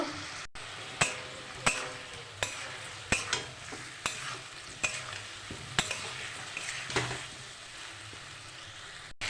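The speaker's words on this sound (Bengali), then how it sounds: "এবার এই মশলাটা আমি দিয়ে দেবো ফুলকপি আলুর মধ্যে এক চামচ কাশ্মীরি লঙ্কার গুঁড়ো দিয়ে দিয়েছি কালারের জন্য ভালো করে আমি কষিয়ে নেব" Cauliflower and potatoes with onion-garlic paste and Kashmiri chili powder are stirred in a hot pan for an egg curry, a steady series of sharp spatula scrapes over a continuous low sizzle.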